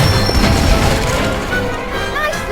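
An Incendio fire spell is cast in Hogwarts Legacy, a loud, crashing whoosh with a dense low roar that fades slightly, followed by faint bright magical tinkles.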